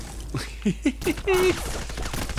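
Gunfire from the Xbox game Black during a Treneska border-crossing level, with several sharp shots in quick bursts, close and loud, followed by a sustained noisy stretch of action.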